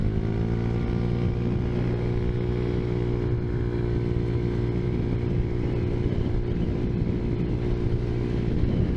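Tao Tao Zummer moped engine drones steadily at an even cruising pitch for the whole stretch, close and loud, with no talking.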